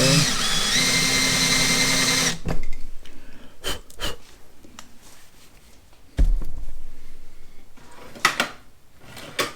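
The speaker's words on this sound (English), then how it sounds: "Don't want to drill cast iron." A power drill whines steadily for a couple of seconds, then stops, followed by sharp metallic clunks and scraping, with another brief drill burst later, while working on a Holley NH Model T carburetor.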